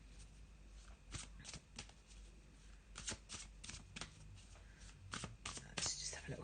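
A Faulkner tarot deck being shuffled by hand, soft close card slides and taps recurring irregularly throughout, with quiet talking underneath.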